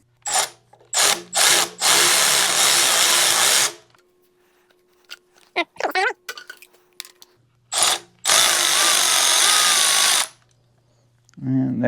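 Power tool or impact wrench spinning off the two carburetor nuts on a Ford 300 inline six from a 1963 Ford F100, two long loud bursts with shorter blips and clinks between, no talk.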